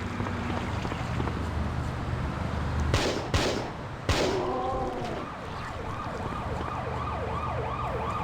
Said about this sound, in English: There are sirens in the background.